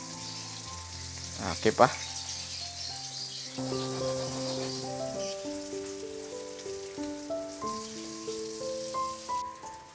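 Salmon head frying in hot oil, a steady close crackling sizzle that runs throughout under light background music, with a brief spoken word and a couple of clatters early on.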